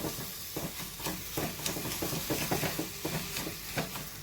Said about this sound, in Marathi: ते परत घट्ट होईपर्यंत आपल्याला हे परत परतून घ्यायचं